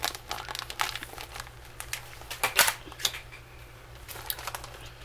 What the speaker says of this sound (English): Well, I just dropped the pocket letter stuff out of the pocket